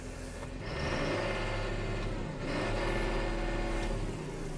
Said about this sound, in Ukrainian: Ще погазуємо трошки.